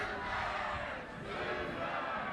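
Soccer crowd at an Ole Miss vs Oklahoma college match, roaring in a steady, loud wash of cheering and shouting that swells and holds throughout.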